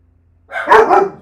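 A dog barks twice in quick succession, close and fairly loud, against an otherwise quiet indoor background.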